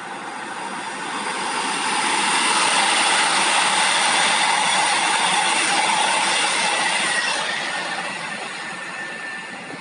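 A train passes a stationary measuring point, its rushing wheel and carriage noise swelling from quiet to a loud, broad roar, holding, then fading away, with no voices.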